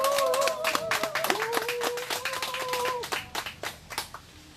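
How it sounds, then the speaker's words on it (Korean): A crowd at a candlelight rally in Seongju opposing THAAD deployment claps to welcome the struggle committee chairman to the stage, the distinct claps thinning out over a few seconds while a voice speaks over them. "큰 박수로 맞이해 주시면 고맙겠습니다"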